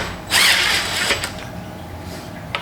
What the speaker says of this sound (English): I'm gonna go ahead and use this Allen extension for this drill